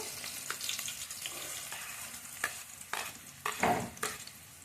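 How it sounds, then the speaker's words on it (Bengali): Tomatoes and onions fry in a pan with a low, constant sizzle, punctuated by several scraping stirs that grow louder toward the end. "টমেটোগুলোকে একটু ভেজে নেবো পেঁয়াজগুলো দিয়ে দেবো"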